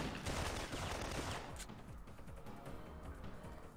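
Rapid gunfire in Syphon Filter, a dense rattling volley of close shots for about a second and a half, then scattered quieter shots and clatter, faint overall.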